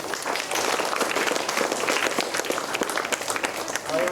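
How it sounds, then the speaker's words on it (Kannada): An audience at a government primary school building inauguration applauds the donors, many hands clapping in a lively, uneven burst that carries on throughout at a moderate volume. "ದಾನಿಗಳಿಗೆ ಎಲ್ಲರೂ ಚಪ್ಪಾಳೆ ತಟ್ಟಬೇಕು."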